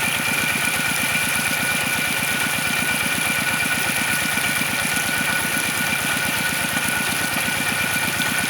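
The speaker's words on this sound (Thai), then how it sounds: "ซื้อมา ใช้กับเครื่องรถไถนาเดินตามนะครับ" Walking tractor engine driving a paddy-field water pump runs at a steady idle-like chug, a continuous, even mechanical throb close by with no talking.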